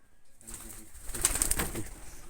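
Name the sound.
pigeons cooing in an old house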